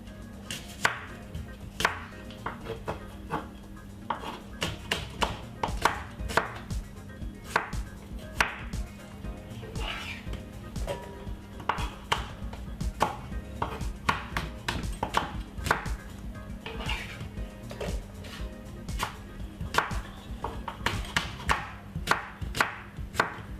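Knife chopping an apple on a cutting board, a long run of crisp, evenly paced thuds and clicks at close range.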